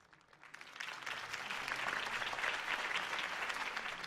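A crowd applauds a campaign speech in the Batman Telltale video game, clapping swelling up from quiet to a steady, full round of applause.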